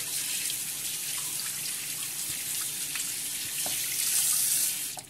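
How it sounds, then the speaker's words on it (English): Fresh tap water runs in a steady hissing stream to rinse a cleaned Yaquina Bay clam, with small splashes and drips, close and even throughout. "I like to just go ahead and rinse it real quick with some fresh water."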